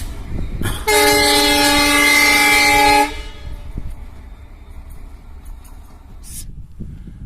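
A loud train horn blasts for about two seconds at Hubli railway station, then a quieter rumble of the passing train continues with faint rattles.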